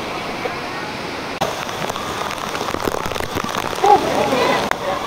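Falling water from the waterfall at Grutas de Tonaltongo pours and splashes steadily into a pool, a dense continuous rush that stays close and fairly loud throughout.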